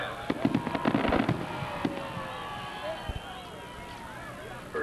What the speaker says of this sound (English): enjoy this great festivity of fireworks